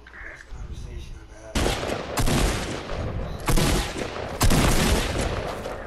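Fortnite gunfire rings out in several loud, sharp bursts spaced a second or so apart, each followed by a brief echoing tail over quieter game background.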